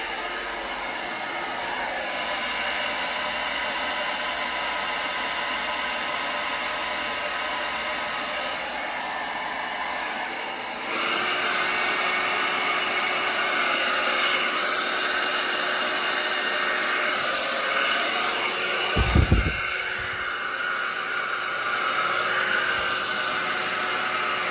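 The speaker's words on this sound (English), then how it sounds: "touched it with the blow dryer there" Blow dryer pushing paint across a Dutch pour, a steady loud roaring whoosh held up close for the whole stretch, growing stronger midway, with a brief low thump near the end.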